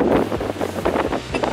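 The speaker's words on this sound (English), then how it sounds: "of course the wind starts up" Gusty wind buffeting the microphone on New Smyrna Beach in Florida, a loud continuous rumble with uneven surges and no speech.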